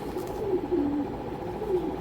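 A racer pigeon coos close by, with soft, repeated low throaty warbles over a steady background hum.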